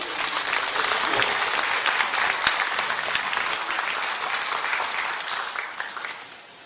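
Sustained applause from an audience at a Taebaek government briefing in an arts hall, a dense steady wash of many hands clapping that holds loud for several seconds, then begins to thin and fade toward the end.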